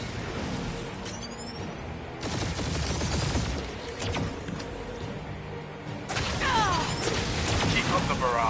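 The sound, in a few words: gunfire barrage in Marvel's Guardians of the Galaxy video game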